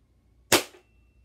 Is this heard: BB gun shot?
yes